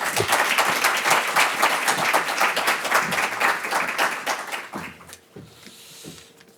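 An indoor audience at a campus grand opening ceremony applauds loudly and steadily as speaker Joe Farrow is welcomed, the clapping thinning and fading out toward the end.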